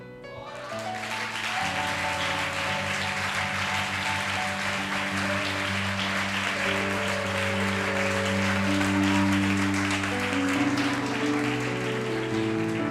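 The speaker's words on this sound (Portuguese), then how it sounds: "Você pode aplaudir." A church congregation claps together during a worship service, steady applause under sustained music with held tones throughout, fairly loud and continuous.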